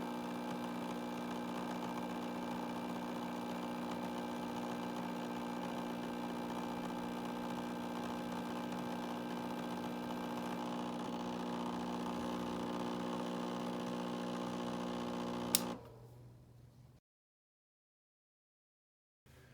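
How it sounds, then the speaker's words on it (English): Plunger and tray rotation motor running in a mechanical demo, a faint steady motor hum with a constant tone that runs for about fifteen seconds, then a click as it cuts off into silence. "As you can see, the plunger is moving down. At the same time, the tray rotation motor is rotating."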